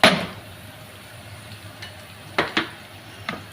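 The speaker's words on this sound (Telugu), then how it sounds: "ఇప్పుడైతే నేను కొట్టి పెట్టుకున్న మసాలా అయితే వేస్తున్నాను." Ground masala dropped into hot oil with ginger paste and onion, stirred with a few sharp spoon-on-pan scrapes and clinks over a low, steady sizzle; no talking.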